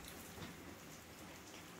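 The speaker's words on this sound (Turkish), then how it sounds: "Ya yağmur yağıyor" Steady rain falls outdoors in a dense, continuous hiss of drops striking surfaces, even in level from start to finish and with no voices.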